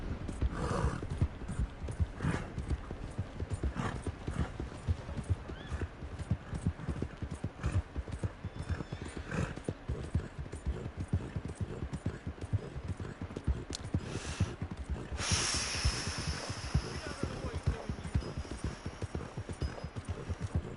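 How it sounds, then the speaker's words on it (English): Horse hooves in a video game clip-clop steadily and continuously at a moderate level, with a brief whooshing burst near the end. "So, Coles, this is the horse, right?"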